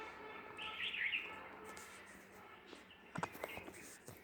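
Birds chirping and twittering outdoors, faint and somewhat distant, with a bright high trill early on and a few scattered short calls later over quiet background hiss.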